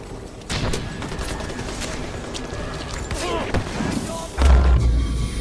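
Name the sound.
explosion in the video game Far Cry 4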